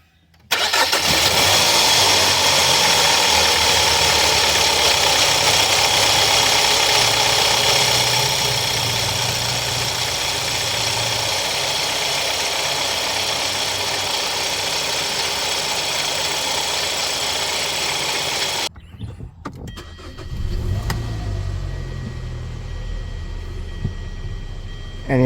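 A 2013 Hyundai Sonata Sport engine idles close by with a smooth, steady hum that holds level for a long stretch, then briefly drops away before settling back into a quieter idle.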